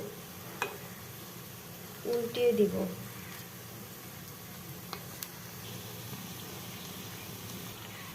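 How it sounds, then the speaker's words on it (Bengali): Cabbage pakoras fry in oil over medium heat, giving a soft, steady sizzle in the background, with a brief clatter of handling and someone speaking briefly over it. "চুলার হিটটা মিডিয়াম আঁচে রেখে আমি পাকোড়াগুলোকে ভেজে নেব"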